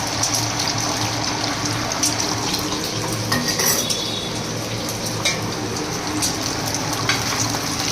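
Beaten egg mixed with salt and a little water fries in a pan, a steady, close sizzle and crackle running throughout, with faint occasional clinks.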